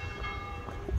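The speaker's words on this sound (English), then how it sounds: "We heard the muezzin, now you heard the bells." Steady, resonant ringing of church bells in the old town of Jaffa, with sustained overlapping tones, heard from a moderate distance with no voices.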